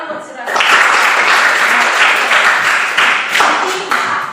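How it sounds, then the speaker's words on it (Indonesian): Classroom applause for a student, a dense burst of many hands clapping that rises quickly and holds steady for several seconds, loud and close, with a brief voice before it begins. "Bagus, tepuk tangan buat saudara."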